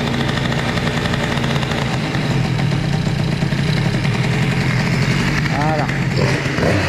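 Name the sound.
Bidalot RF 50 moped engine idling, warming up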